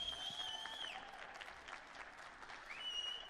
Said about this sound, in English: one more big round of applause for the Prince of Wales